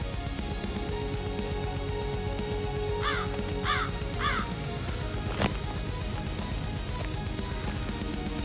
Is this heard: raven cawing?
yes